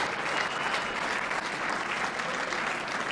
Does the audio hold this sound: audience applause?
yes